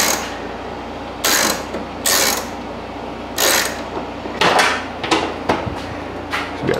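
A ratchet tightens bolts while rebuilding a wrecked salvage Toyota Corolla, heard as several short bursts of quick metallic clicking separated by pauses, close and fairly loud.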